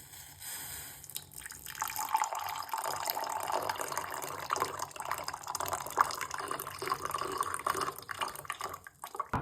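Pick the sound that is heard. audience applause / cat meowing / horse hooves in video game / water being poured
water being poured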